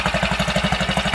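A 6HP outboard motor idling after its carburetor was cleaned, a fast, even, chugging pulse of firing strokes, loud and close, with no voices over it.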